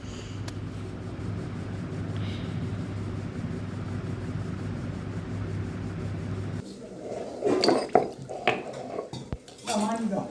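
Poppy seeds are ground into a thick paste by hand, starting with a steady background hum and then shifting to close, uneven scraping and rubbing strokes.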